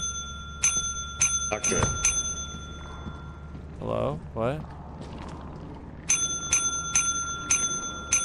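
In the game Lethal Company, a bright bell is struck in quick repeated bursts, with a pause in the middle and another run of rapid rings at the end, while players talk and exclaim over it.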